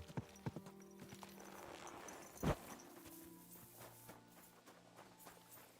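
Horse hooves clip-clop at a walking pace in the video game Kingdom Come, amid game ambience, with a sharp thud partway through and a steady tonal hum underneath.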